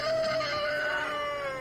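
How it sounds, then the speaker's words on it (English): Chicken in the fantasy role-playing game Divinity: Original Sin, one drawn-out crowing call lasting over a second, fairly loud and close, with no talking. "There's a chicken."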